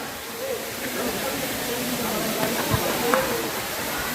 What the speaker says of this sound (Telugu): వాటర్ ఫాల్ ఎక్కడున్నా సరే వాటర్ సౌండ్ కానీ, నేచర్ సౌండ్ కానీ అంత బాగుంటాయి వినటానికి